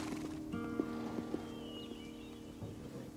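Horse hooves clip-clop in a stable yard, a few distinct hoof knocks over a steady background hum, with no talking heard.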